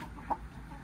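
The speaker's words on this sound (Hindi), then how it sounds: "जी मुर्गा आ गया।" A white Shamo rooster gives a single short cluck at close range, a brief bright call standing out over low steady background rumble.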